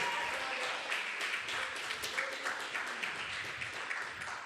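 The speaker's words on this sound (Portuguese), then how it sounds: "Vamos aplaudir bem forte ao Senhor" A church congregation applauds in a sustained, moderately loud wash of clapping that carries on for several seconds, with some murmuring voices underneath.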